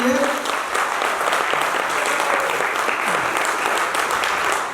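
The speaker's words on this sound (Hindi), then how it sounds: "एक जोरदार तालियां जितेंद्र जी के लिए" At a product training event, an audience gives a speaker a loud, sustained round of clapping that lasts the whole stretch, and a voice is heard briefly at the start.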